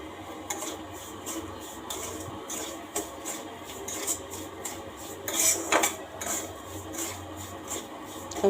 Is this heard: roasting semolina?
yes